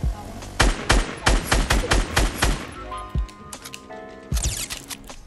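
Rapid gunfire in an online shooter game rattles out in quick bursts of sharp, loud reports, then pauses before a final volley, with ringing tonal game effects and faint talk in the background.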